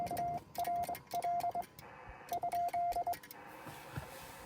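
Morse code keyed by hand at about 23 words per minute on the 15 m amateur band, sounding as a steady tone in short bursts of dots and dashes over radio static and background noise.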